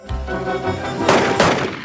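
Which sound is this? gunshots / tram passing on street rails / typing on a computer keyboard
gunshots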